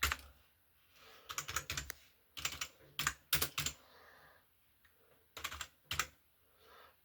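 Quick clusters of keystrokes on a computer keyboard, crisp clicks in short bursts separated by brief pauses, close and clear with no talking.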